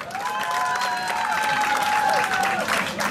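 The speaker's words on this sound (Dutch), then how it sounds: "Dames en heren, mag ik een groot applaus voor deze twee vechters." A crowd at a kickboxing event applauds two fighters after the bout, sustained dense clapping with cheers, while a loud voice carries over the hall.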